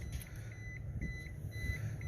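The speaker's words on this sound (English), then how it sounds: "Key's gonna beep, of course." A key-in-ignition warning chime beeps steadily inside a 1980s-style Mitsubishi 4x4 truck, a faint regular series of short tones over a low idling rumble.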